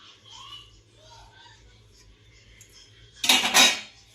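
Chopped cabbage, onion and cucumber get mixed in a bowl with a short burst of clattering utensil-on-bowl clinks near the end, after quiet talk in the background.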